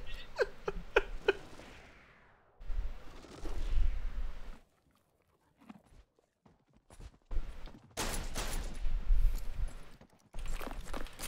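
Peacekeeper revolver fan-fired in a video game: a quick burst of several sharp shots near the start, then rattling mechanical clatter and bursts of noise separated by quiet gaps.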